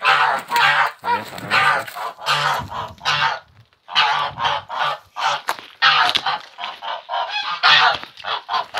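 Geese let out into a neighbouring yard, with chickens nearby, honk loudly and close in a long run of repeated, overlapping calls with only brief pauses.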